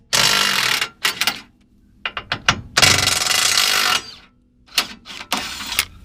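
Power tool removing skid plate bolts on a Jeep Wrangler, loud close bursts of rattling impact-style whirring that start and stop several times with brief quiet gaps between them.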